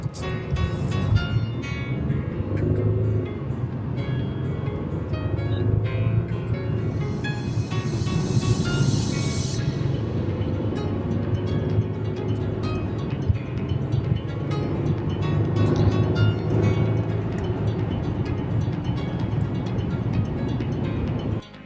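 A 2021 Audi Q7 accelerating on a highway, its engine giving a steady, loud drone mixed with wind and road roar that swells and eases over about twenty seconds, with no one talking.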